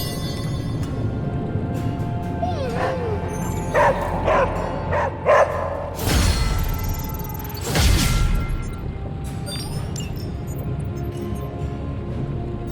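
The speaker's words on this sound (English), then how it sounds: "Hey, Charlie Warley, puppy face." Several short yipping dog barks from a pet dog in the Marvel's Midnight Suns video game, with a few quick calls in the middle and louder game sounds after them.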